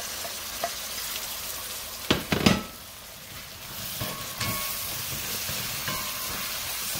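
Jamaican beef patty filling mixed with breadcrumbs sizzles steadily in a pan, with a couple of louder stirring scrapes early on and a continuous frying hiss.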